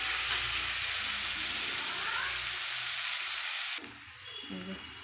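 Bombay duck (lote fish) curry is stirred gently in a frying pan, giving a steady, close sizzle that drops off sharply near the end, followed by a few light utensil clinks.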